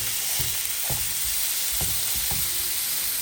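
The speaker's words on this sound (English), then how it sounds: "the turkey goes in the pan with the oil" Ground turkey broken into pieces fries in oil in a pan, a steady close sizzle with soft bursts of stirring or pressing at intervals and no talking.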